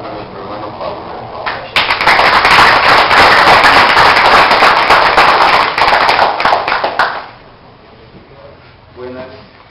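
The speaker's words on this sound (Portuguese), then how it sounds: "les damos un aplauso a nuestro hermano Pablo" A burst of audience applause for a speaker named Pablo at a Spiritist gathering in Guatemala, loud dense clapping that starts abruptly, holds for several seconds, then fades out as talk resumes.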